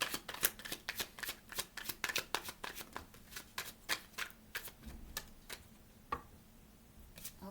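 Tarot cards snapped and flicked one after another as they are pulled from a deck, a fast run of crisp, close clicks and slaps that thins out toward the end.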